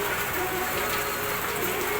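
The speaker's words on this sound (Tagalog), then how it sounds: "Malakas ang ulan dito sa akin." Heavy rain pours steadily, a dense continuous hiss of drops on surfaces, loud and even with no voices.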